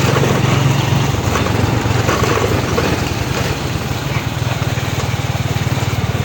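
A motorcycle engine runs during a riding lesson with a steady pulsing idle that rises into low revving, close and loud, while a voice speaks over it.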